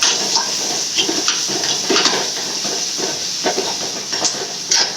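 Ginger, garlic, onion and green chili sautéing in hot oil, a steady sizzle and hiss with small crackles and pops scattered throughout, close and fairly loud.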